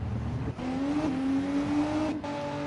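Race car engine from a racing video game at the Le Mans 24-hour event, droning steadily with a rising pitch as the car pulls out of the pits, one continuous loud note with a brief dip near the end.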